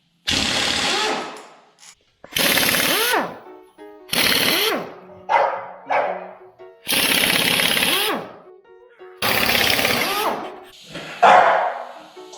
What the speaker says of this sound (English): Got the impact here. It's a 3/4 inch bolt or 3/4 inch socket here on the impact.